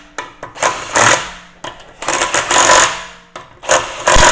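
An impact driver with about 60 foot-pounds of torque snugs a lug nut on a Tesla wheel, firing in several loud, close rattling bursts separated by short pauses.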